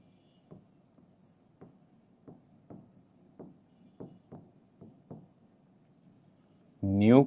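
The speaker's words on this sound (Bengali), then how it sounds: "এই যে লিখে রাখলাম" Chalk or marker taps and strokes on a board during a physics class, about a dozen short, evenly spaced marks, then a voice starts speaking.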